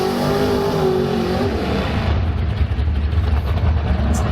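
A drag race car on nitrous revs hard at a drag strip, its engine blasting loud and close with rising and falling tones, shifting into a rougher, pulsing roar midway through.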